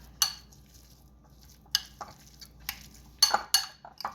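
Tuna salad mixed with mustard in a bowl, a few sharp scraping clinks of a utensil against the bowl spaced irregularly over quiet, no talk.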